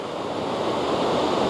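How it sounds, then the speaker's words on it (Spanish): Ocean waves breaking on El Majahual beach in El Salvador, a steady, loud roar of surf swelling slightly toward the end, with no voices. "sí se ve que las olas están un poquito fuertes"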